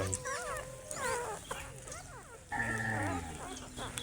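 A dog whines and yelps repeatedly up close, its high, wavering cries coming in short bursts over a noisy background.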